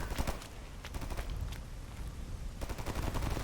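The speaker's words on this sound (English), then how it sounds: "Now who are they firing at? Someone with a machine gun." Rapid machine gun fire crackles through a dense, noisy firefight in Stalker GAMMA, bursts of sharp shots rattling almost continuously at moderate distance under a broad roar.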